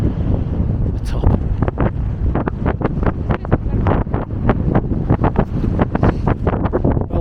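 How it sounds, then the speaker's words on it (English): Strong, cold wind at a mountain viewpoint buffets the microphone in loud, ragged gusts and rumbling bursts, continuous and close throughout. "It's really cold and windy."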